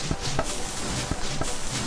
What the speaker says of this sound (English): The sound of chopping the trees down and eating them,